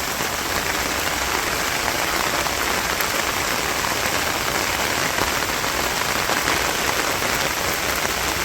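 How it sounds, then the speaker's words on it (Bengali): Heavy rain pours down in a village during a storm, a dense, even hiss of drops drumming on surfaces, close and continuous throughout with no voices. "কইতে কইতে বৃষ্টি নেমে গেলো"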